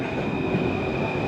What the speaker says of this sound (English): And there is our train.